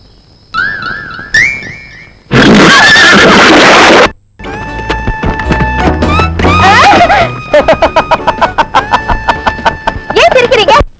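A horse in a 1986 Tamil action film gives a loud, shrill whinny amid a busy soundtrack of music and dramatic effects.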